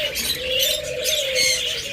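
Pet lovebirds, cockatiels and budgerigars call together in a dense, continuous chatter of high chirps and squawks, close and fairly loud, with a low cooing undertone.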